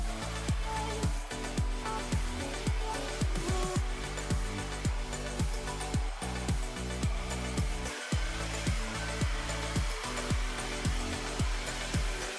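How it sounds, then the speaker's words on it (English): A handheld hair dryer blows continuously on medium heat while drying hair after an Aphogee 2-Step damaged-hair treatment, a loud, steady airy whir heard close up with no talking. "You can use a handheld hair dryer."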